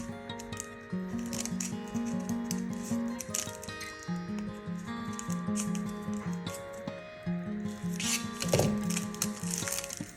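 Paper being cut by hand with scissors for a kirigami lattice form, rapid close snips in repeated bursts, quiet and crisp with no talking.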